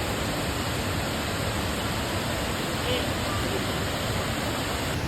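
Steady, broad roar of a waterfall in Mae Hong Son, constant and even throughout, with no clear voices over it.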